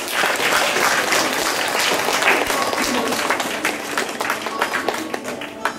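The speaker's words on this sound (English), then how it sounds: "I think we should give her a big round of applause." Audience applause for a solo dance competition prize winner at a school assembly, a dense steady clapping that fills the whole stretch and thins slightly toward the end.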